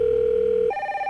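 Telephone ring tone from the You Don't Know Jack trivia video game, a steady electronic tone that shifts pitch once partway through, then a brighter burst at the end, clear and alone with no voices.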